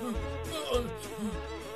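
Cartoon bees buzzing in a continuous wavering drone that swells and dips in repeated pulses, close and alone without speech.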